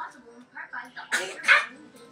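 A small dog sneezes twice in quick succession, two short sharp bursts close by, after a soft murmuring voice.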